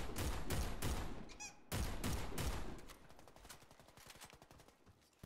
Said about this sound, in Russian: Да он поздно вообще выстрелил после счета там